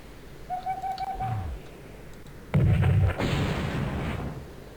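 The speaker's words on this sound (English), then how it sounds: "artillery to fire right back at him" Artillery fires in the turn-based strategy game Spellcross: a whistling shell tone is followed by a heavy booming blast with a rumbling tail, loud and close, with no talk over it.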